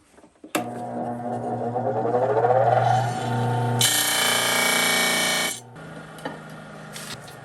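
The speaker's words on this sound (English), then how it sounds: "I'll have to grind it some more." A metal rear sprocket adapter for a motorized bike being ground down, a loud rising whine as the grinder bites, then a harsh steady buzz that cuts off and fades into short rattles.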